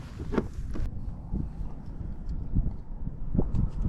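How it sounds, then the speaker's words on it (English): Steady wind buffeting the microphone while out fishing, a continuous low rumble with gusty swells and faint splashing, no voices. "We're out in the windy conditions."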